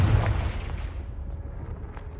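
Confringo fire spell exploding in Hogwarts Legacy on PS5: a loud, deep booming burst at the start that rumbles and slowly fades over about two seconds, with no talking.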